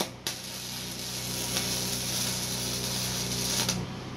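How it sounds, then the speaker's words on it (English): Gasless flux core welding of a bead on metal: a steady, loud crackling sizzle that holds for about three and a half seconds with no talk, cutting off cleanly at the end. "So I'm gonna go ahead and weld another bead."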